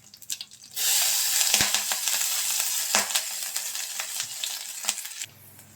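Cumin and green chillies dropped into hot oil in a kadai burst into a loud, steady sizzle that holds for about four and a half seconds, with a few sharper crackles, then drops off abruptly.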